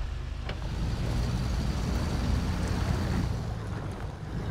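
Truck engine in the SnowRunner video game, a steady low rumbling drone with broadband rushing noise as the vehicle reverses, continuous and fairly loud throughout with no talking.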